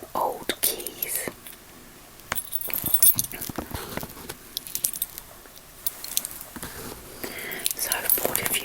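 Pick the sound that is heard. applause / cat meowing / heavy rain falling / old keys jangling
old keys jangling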